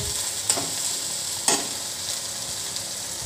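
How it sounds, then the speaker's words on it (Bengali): Pasta frying in a pan, with a steady, even sizzle and two sharp scraping clanks as it is stirred. "এখন দিয়ে দিচ্ছি পাস্তা। এখন ভালো করে ভেজে নিতে হবে।"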